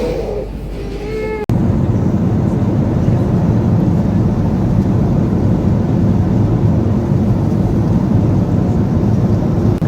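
Airplane in flight, a loud steady low cabin drone that holds evenly throughout after a brief quieter opening with faint tonal sounds.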